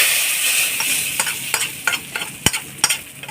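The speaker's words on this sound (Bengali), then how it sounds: "এই ফোড়ন দেওয়া হয়ে গেল ডালে" Hot tempering oil hits a pot of moong dal with a loud hiss, then sharp crackling bursts pop irregularly as the sizzle settles.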